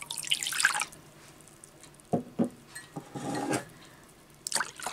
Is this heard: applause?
no